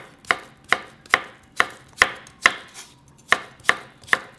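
A knife slicing lengthwise through a fresh cucumber on a cutting board, ten crisp, evenly spaced chops close up, steady and alone with no talk.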